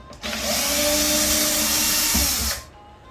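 A power screwdriver backing cabinet door hinge screws out, a steady, close, high-pitched whirring motor that runs for just over two seconds, then cuts off.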